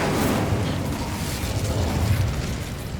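Incendio fire spell cast in Hogwarts Legacy, heard as a loud, close roaring whoosh of flame with a rumbling, explosive body that sustains at a steady level for a few seconds, with no talking.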